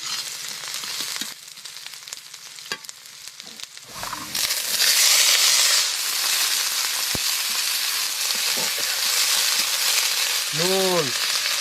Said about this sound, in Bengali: কড়াই গরম হয়ে গেছে, সরিষার তেল দিয়ে দেবো। রসুন কুচি, লঙ্কা কুচি, পেঁয়াজ কুচি,